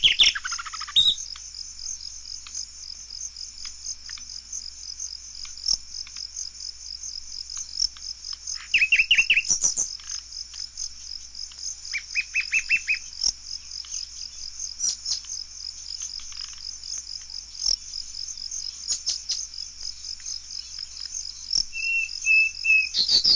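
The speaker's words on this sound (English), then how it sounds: "Now the nightingale produces some fine bursts of song all on his own, punctuated by scolds." A nightingale in Africa sings alone in fine separate bursts broken by harsh scolding calls, clear and close against a constant high insect-like trill and quiet background, with loud phrases coming and going across the stretch.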